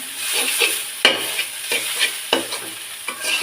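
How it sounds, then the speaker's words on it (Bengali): Water spinach frying in oil in a pan, stirred with a spatula: loud close sizzling with repeated sharp scraping strokes against the pan, alone without talk. "তেলটা দিয়ে একটু নাড়াচাড়া করে তারপর চুলা থেকে নামিয়ে নিতে হবে"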